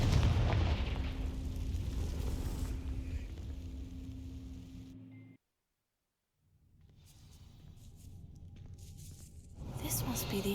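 A roaring fire blast from the Confringo spell igniting dry vines in the Hogwarts Legacy video game, loud and sustained, then cutting to a brief silence before the game's ambience rises again.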